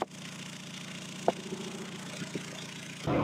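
A 1.9 TDI car engine idles steadily while warming up, a continuous low diesel rumble heard close and alone, with a few faint clicks partway through and a louder shift in sound at the very end.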